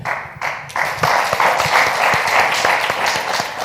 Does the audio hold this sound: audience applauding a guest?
yes